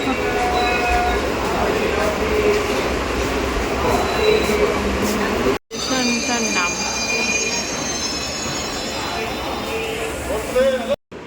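A moving passenger train on a trip to Goa, with loud steady rumbling and screeching wheel squeals throughout, broken by two brief dropouts, while voices murmur in the carriage.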